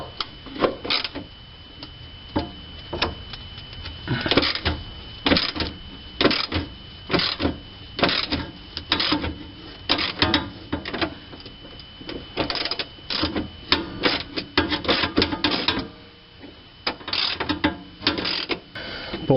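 A 10mm ratchet wrench works a rusty fuel regulator bolt on a Pontiac G5, giving steady runs of close, crisp clicking in repeated back-and-forth strokes with short pauses between them.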